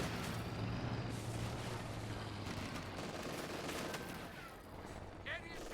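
Machine gun fire in Company of Heroes suppressing British infantry, a dense continuous rattle of shots and battle noise mixed with distant blasts, fairly steady and fading slightly near the end.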